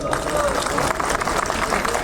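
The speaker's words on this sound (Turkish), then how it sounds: "yürekten bir alkış istiyorum sizlerden" An audience applauds for farmers at a traditional assembly festival: dense, steady clapping from a crowd that fills the whole stretch without pause, with crowd noise mixed in.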